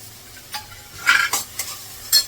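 Vegetables with tomato and fresh coriander are stirred in a frying pan, a spoon scraping and tossing in several uneven strokes over a soft sizzle, close and moderately loud, with no talking.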